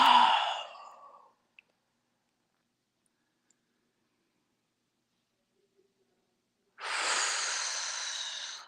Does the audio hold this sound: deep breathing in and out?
yes